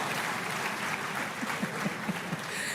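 An audience claps together in a dense, continuous wash of applause, with a few louder individual claps standing out near the middle.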